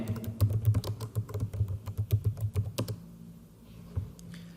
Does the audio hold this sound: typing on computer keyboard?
yes